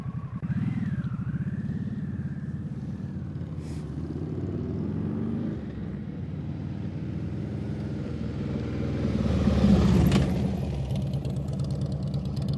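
A motorcycle engine rumbles low and steady at slow riding speed, rising slightly in revs before easing off as the bike brakes to a stop, with a brief squeal near the end.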